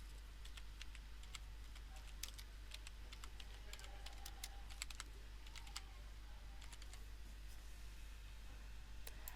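Steady typing on a computer keyboard while entering text for a Fiverr gig's image SEO, with quick, irregular key clicks at close range over a low constant hum, and no talking.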